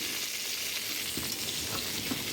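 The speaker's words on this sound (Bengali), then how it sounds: "পটলটা আমি খুব সুন্দর করে ভাজা করে নিচ্ছি" Slices of pointed gourd (potol) fry in oil in a pan with a steady, close sizzle and faint crackling pops, with no voices over it.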